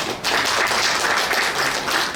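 Audience applause at a New Year's greeting gathering of a civic group: steady, dense clapping from a crowd, fairly loud and sustained for about two seconds with no voices over it.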